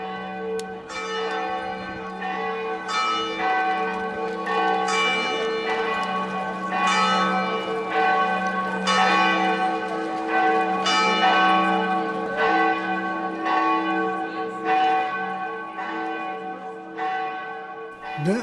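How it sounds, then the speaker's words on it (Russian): Church bells ring out over the central square of Pienza, Italy, a steady series of loud, resonant strikes with long ringing overtones layered continuously through the whole stretch. "Ну, прервемся, колокола бьют."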